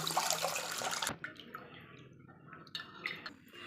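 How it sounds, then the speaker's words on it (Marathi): Rice and masoor dal are washed together in water. Close, soft splashing and swishing fade into quieter trickles and drips, with no voices. "आपल्याला स्वच्छ 2दा धुवून घ्यायचे तांदूळ आणि डाळ दोन्ही मिळून."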